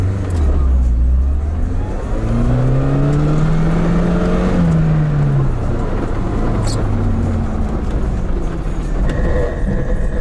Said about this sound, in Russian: включаю и попробую газ в пол на первой повышенной